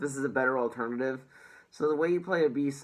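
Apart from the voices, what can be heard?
No everyday noises stand out.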